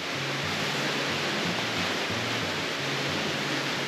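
A river in Finland rushes in a dense, steady roar of flowing water that stays loud and even throughout, with no voices.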